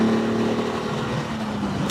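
A 1970 Ferrari Dino 246 L Series engine hums steadily from inside the car on the move, a smooth mid-pitched drone holding a constant note for a couple of seconds.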